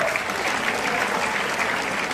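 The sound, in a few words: audience applause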